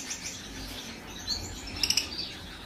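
Pet lovebirds in a home aviary give a few sharp, high chirps, a quick cluster of tweets standing out over a quiet, faintly hissing room, fairly close and brief.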